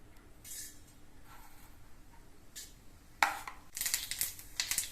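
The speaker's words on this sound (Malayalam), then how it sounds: "കടുക് പൊട്ടി വന്നിട്ടുണ്ട്." Mustard seeds crackle and pop in hot oil in a heated uruli, sparse sharp pops early on giving way to a denser burst of crackling toward the end, close and fairly quiet.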